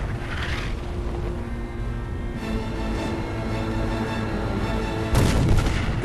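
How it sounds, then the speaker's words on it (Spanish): Battleship bow guns fire a final salvo as the Hood sinks during battle, heavy booming artillery rolling over sustained rumbling noise, with a louder burst near the end. "la artillería de proa dispara la salva final"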